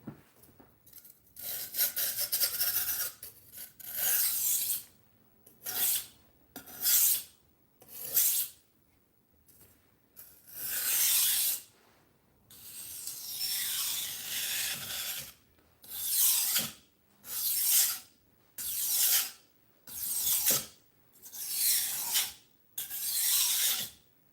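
A cheap dollar-store knife is drawn across a sharpening stone in a series of raspy, gritty strokes, each a second or two long, separated by short pauses, close and fairly loud with no talk.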